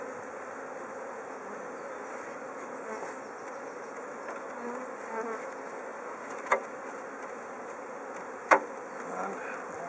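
Honey bees swarm and buzz around an opened beehive during a hive inspection, a steady close droning hum with a couple of brief sharp knocks.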